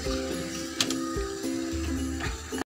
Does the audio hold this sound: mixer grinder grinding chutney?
yes